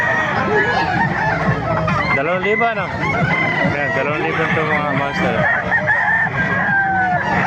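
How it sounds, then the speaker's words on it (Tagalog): Roosters crowing loudly and repeatedly at the crowded Tuesday-morning rooster market in Calumpit, Bulacan, overlapping calls with clucking beneath and people talking nearby. "Dumagsa ang manok kayo dito sa Malupit Bulacan no?"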